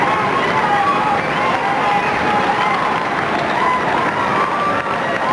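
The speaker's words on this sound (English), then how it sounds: "Well, a lovely try, and the crowd respond." A dense, loud, sustained roar from the crowd at a rugby union match between South West and Western Samoa, cheering after a try, with a commentator speaking over it.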